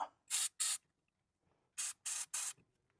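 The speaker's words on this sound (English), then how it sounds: "we're just gonna spray this with a little lube" Lubricant sprayed from an aerosol can onto a lift kit part for a 2011 Range Rover Sport, five short hissing bursts close to the mic, two quick ones then three more after a pause.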